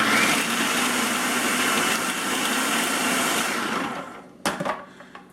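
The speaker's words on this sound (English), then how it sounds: "now I'm going to throw in my roasted garlic, and I'm just going to pulse it just real quick" A food processor pulses basil and roasted garlic in a loud, dense whir for about four seconds, then cuts off, followed by a few short bursts and clatters.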